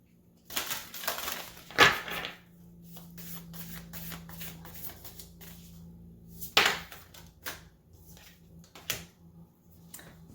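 Tarot cards being shuffled close by in a few quick riffling bursts, separated by quieter rustling and handling of the deck.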